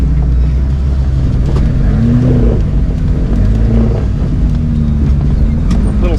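An off-road vehicle crawling up rock on a Moab trail revs its engine in uneven surges, loud and close, with rising and falling engine tones over a constant low rumble.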